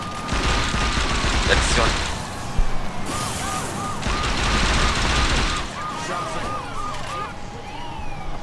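Video game gunfire rattles out in loud, rapid automatic bursts, with mechanical clatter and a crash in between. Someone speaks briefly over the shooting.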